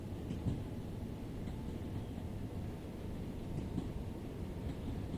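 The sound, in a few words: Class 387 electric train accelerating at full power, Train Sim World 5 video game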